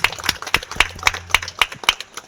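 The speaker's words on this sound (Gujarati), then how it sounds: "તાળીઓના ગડગડાટથી વધાવી જોઈએ." A single person claps sharply and rhythmically at a YouTuber meetup, about nine evenly spaced claps, close and distinct with a faint low hum underneath.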